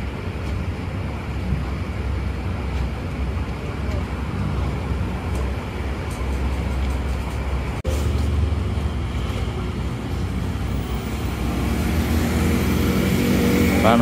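A Pranajaya intercity bus pulls away from the Pasar Rebo agency, its engine a steady low rumble with road and traffic noise around it, rising slightly toward the end.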